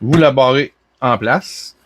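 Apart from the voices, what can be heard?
No everyday noise stands out behind the speech.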